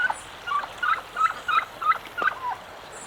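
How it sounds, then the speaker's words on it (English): Muscovy ducks give a run of short, soft, evenly spaced calls at a fair distance, over a steady outdoor hiss with no talking. "And my friends, the Muscovies."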